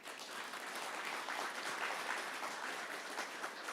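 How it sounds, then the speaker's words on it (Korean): A hall audience at the opening ceremony of the Korean Para Smartphone Film Festival claps for a team, an even wash of applause that holds steady for a few seconds, fairly soft and distant, with no voices. "이 팀을 위해 여러분 뜨거운 격려 박수 한번 보내주시기 바랍니다."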